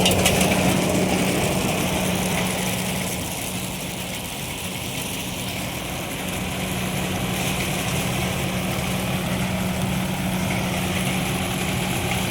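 A destoner machine running on a 55 hp tractor at about 10 RPM, giving a steady, continuous low engine drone with mechanical rumble and no talk.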